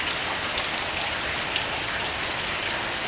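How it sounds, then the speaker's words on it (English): Steady rain falls outside, a dense, even hiss of drops striking surfaces that stays constant and fairly loud throughout with no voices. "it's raining out today"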